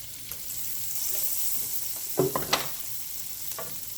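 A steady sizzle of butter and garlic frying in a pan runs throughout, with a few scraping stirs near the middle.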